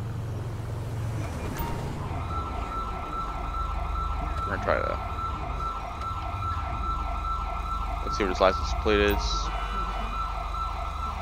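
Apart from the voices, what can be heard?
ambulance siren in video game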